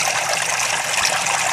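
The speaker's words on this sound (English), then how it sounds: "So that's a good amount of water coming out from every single hole." Water streams steadily from the many holes of a cheap DIY aquaponics biological filter, a dense continuous gushing and splashing that stays loud and even throughout.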